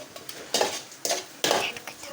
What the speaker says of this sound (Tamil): கொஞ்சம் அதை ஒரு 3 நிமிஷம் நல்லா வதக்கிக்கலாம்